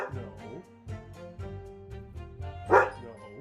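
A dog gives a single sharp bark near the end, up close, over music playing underneath.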